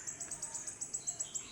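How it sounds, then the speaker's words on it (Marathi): A bird calls in a quick, regular series of about ten short, high chirps, fairly faint and alone, in the Konkan countryside in the morning. "मस्त पक्षी ओरडते"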